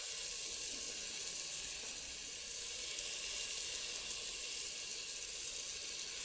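Chili powder sizzles steadily in hot oil with frying masala for tomato rice, a continuous bright hiss close by with no talking.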